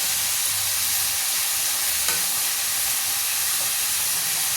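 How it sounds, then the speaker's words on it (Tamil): Curry leaves with green and dried chillies sizzle in a hot pan, a dense, steady frying hiss that runs loud and unbroken throughout. "இன்னும் கொஞ்ச நேரம் இந்த மாதிரி வதக்கினா போதும்"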